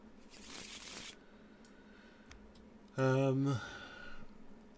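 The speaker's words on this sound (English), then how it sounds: "Shuffle those up" Cards for the board game Deception are shuffled close by in a short riffling burst, then a voice speaks over faint table handling sounds.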